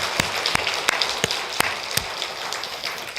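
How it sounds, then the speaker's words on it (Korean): A church congregation at a Wednesday service applauds with a burst of clapping, a steady wash of many hands punctuated by several louder, sharper claps from people close by. "박수 한 번 해주세요"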